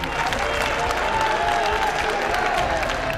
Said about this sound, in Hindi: एक बार जोरदार तालियां हो जाएं जरा दोनों ही प्रारंभिक बल्लेबाजों के लिए